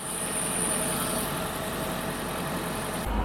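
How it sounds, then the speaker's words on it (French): A Toyota hybrid car engine with a failed head gasket idles with a steady, low, continuous rumble and hum, running evenly throughout with no voices. "Donc là, j'ai démarré le moteur."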